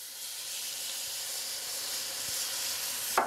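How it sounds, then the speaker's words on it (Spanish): Vegetables and mushrooms sautéing in a pan with a spoonful of achiote-tinted oil, a steady close sizzle and hiss running throughout with a brief clink near the end. "La vamos a sofreír ahí también. El champiñón."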